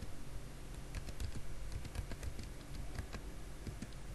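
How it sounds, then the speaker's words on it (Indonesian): Someone types on a computer keyboard: a steady, fast patter of close keystrokes over a constant background hiss, with no talk. "Kita ketik di sini"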